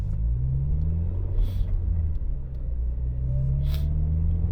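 Car engine rumbling steadily close by while driving along, a continuous low drone with faint road noise and brief passing hiss, no talk.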